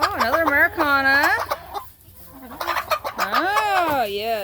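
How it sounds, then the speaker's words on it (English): Backyard chickens, including a solid white Americana hen, cluck in a run of rising and falling calls, close and fairly loud, with a short quiet gap in the middle. "Here's all my chickens down here."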